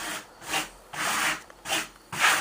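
A steel trowel drags Marmorino lime plaster across a wall in four or five separate rasping strokes, each a rough scrape that swells and fades before a short pause.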